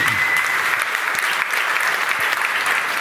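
An audience at an award ceremony applauds loudly and continuously, a dense close wash of clapping with no break, while a faint tone sits underneath.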